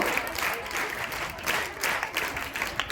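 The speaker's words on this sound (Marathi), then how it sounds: "जोरदार टाळ्या झाल्या पाहिजे।" Applause from an audience at a school prize distribution ceremony, dense sustained clapping from many hands filling the whole stretch, fairly loud and close, with no clear talk over it.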